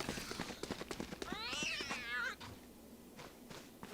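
A cute cartoon cat meow from the cat spray in the video game Valorant, a single drawn-out wavering meow after a few short clicks, clear and up front over faint background game noise.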